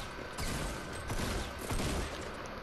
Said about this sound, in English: He's shooting grenade launchers.